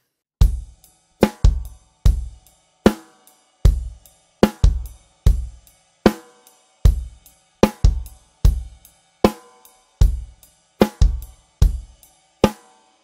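A rock drum beat with steady sixteenth-note hi-hat and punchy kick and snare hits, played solo and close, looping evenly for about thirteen seconds.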